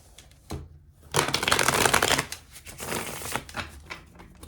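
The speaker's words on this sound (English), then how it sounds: "Let's get a better shuffle here, because I don't feel like we're getting a good shuffle." Tarot cards shuffled by hand, with a brief riffle early on, then a loud, dense burst of rapid card flutter and several softer shuffling bursts that trail off, up close with no talking.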